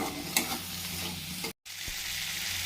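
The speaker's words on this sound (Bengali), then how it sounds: "এরপরে এতে কুচনো আলুটা দিয়ে একটু ভেজে নিচ্ছি।" Chopped potatoes frying with spices in a pan for an egg curry, a loud, continuous close-up sizzle with a brief break and a light stir knock.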